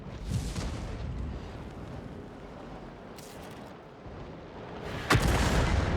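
An SPG artillery shell lands on a target in a tank video game, with a distant rumbling boom and then a sharper blast near the end over steady low battlefield noise, with no voices.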